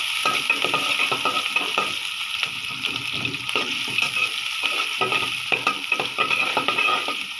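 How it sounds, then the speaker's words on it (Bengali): Chicken biryani with parboiled rice cooking in a pot, a loud continuous sizzle and frying hiss with repeated stirring scrapes close up. "এটা আমি সিদ্ধ চালের বিরিয়ানি রান্না করব আজকে"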